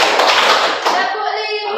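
Hands clapping in a maths lesson as part of a counted clapping exercise, a dense burst of loud claps that fades into a ringing tail, with a voice heard alongside.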